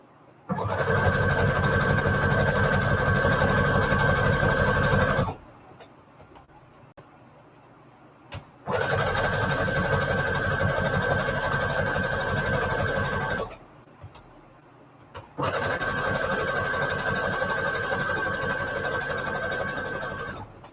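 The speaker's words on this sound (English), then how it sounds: "Now we've just turned into sewing ASMR. Hope y'all don't mind. Just gonna do a whole lot of sewing now." Sewing machine stitching through junk journal cards made from vintage floral ephemera, three loud steady bursts of several seconds each separated by short pauses, close and alone.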